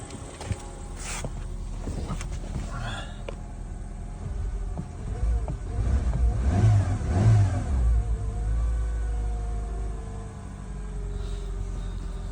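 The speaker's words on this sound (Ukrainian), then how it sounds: "Ми попробуємо на педаль газу натиснути." A car that runs poorly when cold idles unevenly, then its engine rises in a throaty rev as the gas pedal is pressed and settles back to a rough idle, close and fairly loud.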